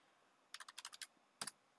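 Someone types a password on a computer keyboard: a quick run of about seven crisp key clicks, a short pause, then two final taps, close and distinct against near silence.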